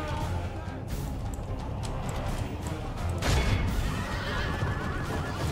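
Horses whinny loudly amid a busy battle din in Total War: Medieval II, with clattering hooves and crashes, and voices shouting over the noise.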